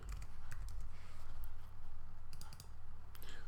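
Quiet, quick clicking of keys on a computer keyboard as a file name is typed, a steady patter of light taps close by with no talking.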